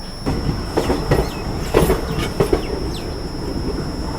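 A Goa Express train stands halted on the outer approach to Bhusawal station, with steady rail-yard rumble, faint clanks and scattered bird chirps. No one talks.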